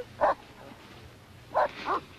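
A dog barks three times, a lone yap followed a moment later by two quick barks, moderately loud over a quiet low hum, with no voices.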